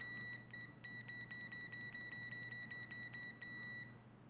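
A UNI-T UT139S multimeter sounds its continuity beeper through Probe Master probes, a rapid series of short, sharp high-pitched beeps, some clipped and some longer, over a low mains hum.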